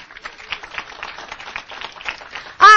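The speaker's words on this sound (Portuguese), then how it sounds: "Dê um aplauso ao Senhor." A church congregation applauding, a dense steady patter of many hands clapping at moderate distance, ending abruptly in a sudden loud burst.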